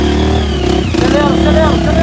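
Motorcycle engine revving and accelerating up close at a birthday gathering, a loud steady mid-pitched drone with rising pitch sweeps, while people talk over it.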